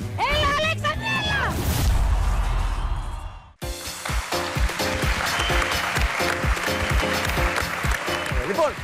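Marina claps on her own in a Greek TV game show studio. Shouting voices come first, then a sudden, steady stretch of loud, dense clapping runs to the end.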